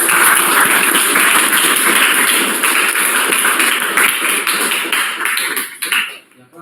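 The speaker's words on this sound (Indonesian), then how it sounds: "Kita tepuk tangan." A class in an e-commerce business management lecture claps together, a loud sustained burst of many hands that carries on steadily before tapering off and dying away at the end.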